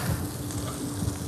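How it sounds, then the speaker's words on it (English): Sautéed vegetables sizzle steadily in a hot restaurant pan, a continuous close crackle with low clatter of stirring throughout, no voices. "Sauteed vegetables"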